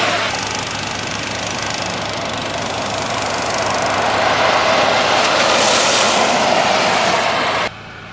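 A Polaris Axys RMK snowmobile engine with a low-RPM fault runs steadily and loudly at a constant drone for about eight seconds, then drops off abruptly near the end.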